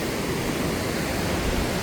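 Sea waves at the shore give a steady, dense rushing wash, unbroken and fairly loud throughout the brief stretch.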